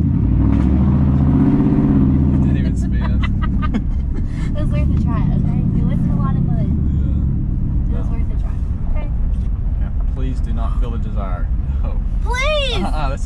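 Straight-piped two-wheel-drive truck rolling into a muddy ditch: a deep, loud rumbling exhaust that swells and settles while people talk and laugh over it throughout.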